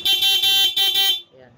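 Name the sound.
stock car horn honking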